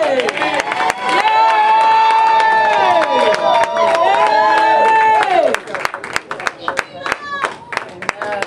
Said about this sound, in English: give Lord a hand clap today